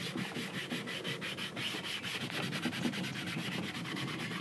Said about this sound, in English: And just really rub hard to get it in to the wood.